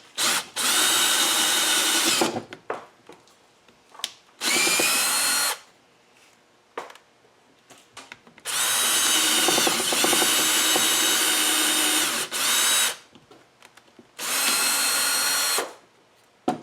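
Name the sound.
power drill boring with a 3/8 inch bit into wood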